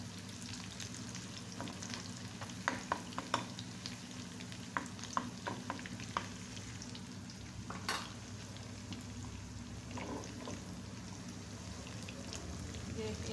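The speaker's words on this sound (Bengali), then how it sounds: "তারপরে কাঁচামরিচ পেঁয়াজ ভেজে নিতে হবে সুন্দর মতো।" Onion and green chillies fry in oil in a pan with a faint, even sizzle, broken by scattered stirring clicks and scrapes of a spoon, quiet and close, with no voices.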